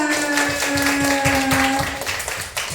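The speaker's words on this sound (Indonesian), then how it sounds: "tepuk tangan semua" A classroom of students clapping together, a steady run of near, dense handclaps lasting a few seconds while a faint tonal hum sits underneath.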